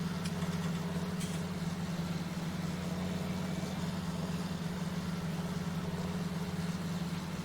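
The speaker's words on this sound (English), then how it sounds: "This tractor's struggling a little bit." A tractor engine in Farming Simulator 19 labors under load with a steady, low droning hum and constant rumble, close and continuous for several seconds with no speech.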